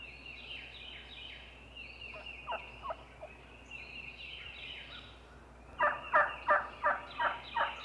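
Wild turkeys call out, first with several soft, scattered gobbles and then five loud rapid-fire gobbles in a row toward the end, clear against a quiet outdoor background.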